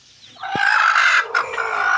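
Backyard hens and a rooster in a coop, a single loud close cock-a-doodle-doo crow rising over soft clucking, alone without voices.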